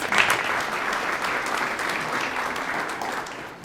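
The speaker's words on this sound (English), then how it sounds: "Let's give a round of applause." Steady applause from a township meeting audience, dense clapping that holds at an even level for a few seconds and tapers slightly at the end.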